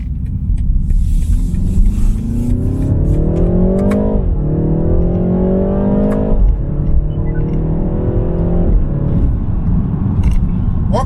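A 2020 BMW 330i xDrive (G20) on the road, its engine pulling through the gears with rising tones that drop at each upshift, steady road rumble underneath, heard from inside the cabin.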